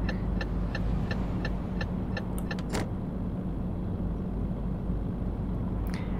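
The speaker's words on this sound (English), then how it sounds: "And the indicator release mechanism sound." A truck's turn indicator in Euro Truck Simulator 2 ticks steadily, then gives a single sharp release click as the signal cancels, over a constant engine drone, with another faint click near the end.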